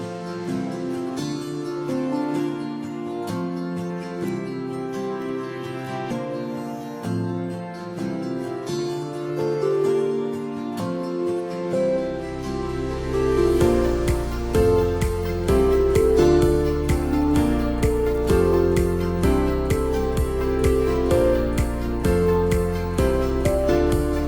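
Electronic music buildup with guitar, a melodic lead and kick drum, starting sparse and then filling out as a steady, driving kick enters halfway through, with the full mix playing loud and continuous.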